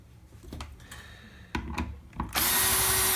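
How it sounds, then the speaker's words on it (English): A cordless power drill backs out screws from a vintage-style Fender guitar neck, first in brief taps and clicks, then a loud sustained high whine close by. "And then I'll use my handy dandy drill."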